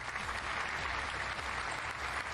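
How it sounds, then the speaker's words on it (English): An applause sound effect played during a livestream, a steady wash of clapping held at a moderate level throughout. "I've got an applause noise now."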